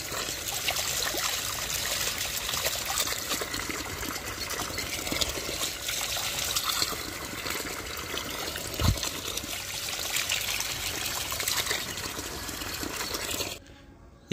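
Steady trickle and splash of water as freshly harvested aquaponic onions, dusted only with sand, are rinsed, running continuously and fairly close for the whole stretch before stopping abruptly at the end, with no voices.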